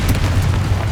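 A single deep, booming blast from the Confringo spell in Hogwarts Legacy, loud and close, with a low rumbling body that fills the whole short burst.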